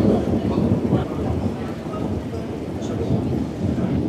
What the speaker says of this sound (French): il se remet à pleuvoir des cordes